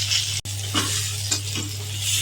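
Fried fish sizzles in hot oil in a home kitchen pan, a steady hiss with a few soft scraping stirs and a brief clink, close and alone without talk.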